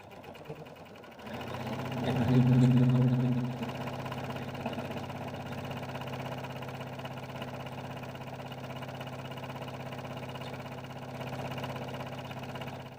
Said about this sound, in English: we're simply going to take it to our machine and top stitch an 1/8 inch down both long edges